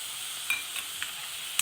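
Okra roasting with a little jaggery in a pan makes a faint steady sizzle, broken by a few soft stirring taps close by.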